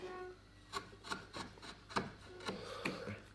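Hand-carving a wooden spoon with blade tools, beveling the edges of a heart-shaped detail: a series of short, close scraping and rasping cuts in an irregular rhythm, each a brief crisp rub of steel on wood, with no talking.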